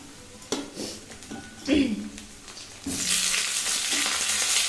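Thick-cut potatoes hit very hot oil with whole cumin and bay leaf in a kadai. A few knocks and brief voice sounds come first, then a loud, steady sizzle takes over.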